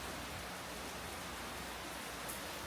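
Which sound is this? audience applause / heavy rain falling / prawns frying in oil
heavy rain falling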